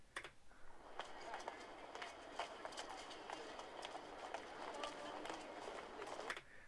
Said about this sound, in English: I'm pretty sure trains don't sound like that anymore.